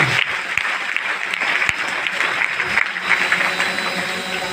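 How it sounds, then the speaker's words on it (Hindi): Applause from a crowd at a DXN business meeting in Danapur, a steady, dense patter of many hands clapping that continues at the same strength throughout, fairly close. "जोरदार तालियां के लिए"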